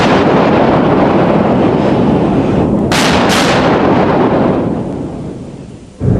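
Massive 16-inch guns of the Iowa-class battleship USS Wisconsin fire in a loud, sustained thunderous roar that fills the whole clip, with a sharp blast near the middle before the rumble fades at the end.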